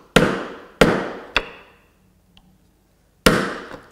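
A mallet strikes a chisel making a chop cut in wood for a housing dado joint, three sharp hard knocks in quick succession, a pause, then one more loud blow, close and without talk.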